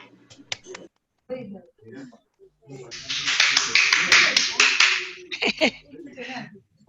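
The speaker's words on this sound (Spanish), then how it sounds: "Muy bien, un aplauso para los que presentaron." An audience gives a burst of scattered hand clapping at the close of a Spanish-language medical case conference. The applause lasts a few seconds, with talking before and after it.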